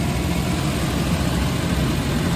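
A Suzuki Carry mini truck engine idling a little high after being revived, a steady low rumble with constant vibration and no breaks.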